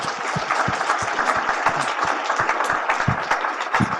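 An audience applauds the Kane County Sheriff's Honor Guard at an indoor presentation ceremony, sustained clapping from many hands filling the room at moderate loudness for several seconds.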